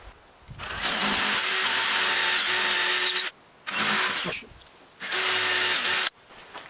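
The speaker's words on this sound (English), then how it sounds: "now I'm going to drill the final size, which is close as I can get" A power drill whines loudly in three sustained bursts with short pauses between, close and steady, with a faint grinding edge, drilling MDF desk parts for a dowel.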